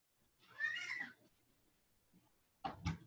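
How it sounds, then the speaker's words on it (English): A pet cat meows indoors in a home room. A drawn-out, wavering meow comes first, then a shorter, sharper cry after a pause, both faint and heard close by, with no talking. "I'm going to get the kitty out of my room real quick."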